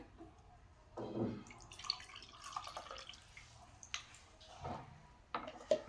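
A strained homemade drink being poured into a serving glass, with irregular liquid splashes and drips against soft background noise, fairly close and moderately loud.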